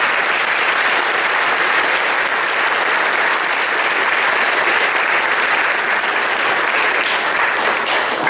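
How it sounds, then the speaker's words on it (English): Crowd at a junior high honor choir festival gives a long, loud, even round of clapping for the teachers, a dense unbroken wash of applause holding steady throughout. "give the teachers a round of applause for all their hard work"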